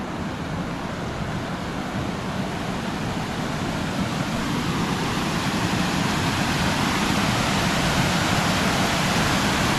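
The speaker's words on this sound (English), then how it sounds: "we've got a mini waterfall there" Mini waterfall at a campground, swollen by flood waters, roaring as a loud, continuous broadband rush of water that holds steady from start to finish, with no voices.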